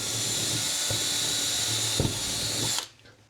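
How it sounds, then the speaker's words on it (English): A power drill bores a hole through a cargo camp trailer wall for a Chinese diesel heater install, a steady close whine with a couple of brief load changes, stopping abruptly near the end. "here's where my drill came out"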